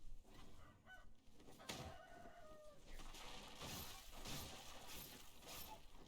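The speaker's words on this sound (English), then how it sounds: "we've angered the roosters." Angry roosters in the Sekiro video game, clucking and squawking in agitated bursts amid loud, dense game noise and shattering sounds.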